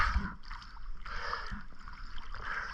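A strong river current rushes past with a surging rumble and splashing water, rising and falling in waves across the few seconds.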